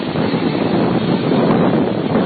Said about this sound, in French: Ça bouge un peu, il y a beaucoup de vent.